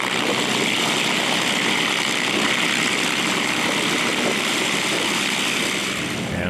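A P-40 warbird's piston engine and propeller drone steadily at an air show, a broad, continuous roar that holds loud and even throughout with no talk.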